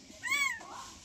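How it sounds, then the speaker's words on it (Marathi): A tiny kitten, one of a litter squashed under its mother cat on open farmland, gives a single close, high, thin meow lasting about half a second, followed by soft outdoor hush. "तिच्या अंगाखाली चिमले एक, त्याच्यामुळे वरडतं एक"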